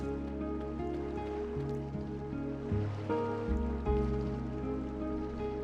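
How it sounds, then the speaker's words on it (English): Gentle ocean waves wash continuously in the Chrono Cross video game, a steady soft surf bed under layered sustained tones of game music. "The tranquil sound of the waves"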